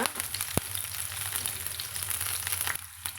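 Chopped onion, a few curry leaves and a cut green chilli frying in hot oil in a pan, giving a steady close sizzle throughout with one sharp knock near the start.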